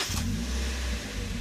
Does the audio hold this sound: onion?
no